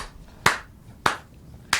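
Three sharp, separate hand claps spaced roughly half a second apart, close and loud against a quiet room background, with no talking.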